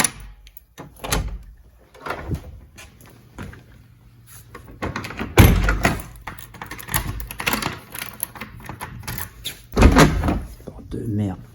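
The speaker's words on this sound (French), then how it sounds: "Porte de merde." A flimsy apartment door is opened and shut with loud bangs and clatter during a heatwave, someone talking and cursing around the knocks.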